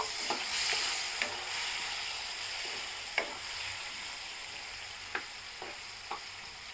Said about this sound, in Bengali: সব কয়টা আলু দিয়ে দিয়েছি এবার ভালো করে ভেজে নিব